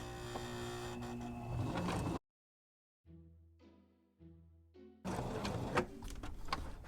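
A sewing machine hems a handwoven towel in short bursts of whirring and stitching, separated by quiet gaps and softer, intermittent motor sounds.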